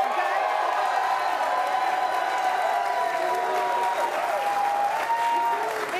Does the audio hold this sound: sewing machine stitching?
no